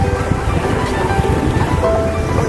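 Strong wind at an airport roars steadily against the microphone, a dense continuous rumble with no pauses over the whole short stretch.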